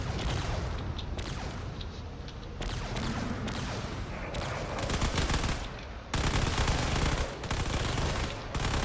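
Loud, continuous bursts of heavy video-game cannon fire roll on with short gaps, dense and booming, with no voices.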